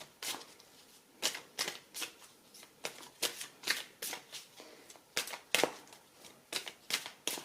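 Oracle cards being shuffled by hand, a close, soft series of quick riffling bursts repeating at an irregular rhythm, with no voices.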